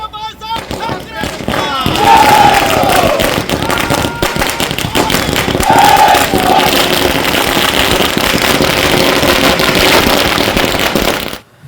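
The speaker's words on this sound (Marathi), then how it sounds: "तर चिपळूणमध्ये मनसे आणि शिवसैनिकांनी एकत्रित एक जल्लोष केला" Street celebration by MNS and Shiv Sena workers in Chiplun, a dense continuous crackle of firecrackers popping loudly throughout, with crowd noise and voices mixed underneath.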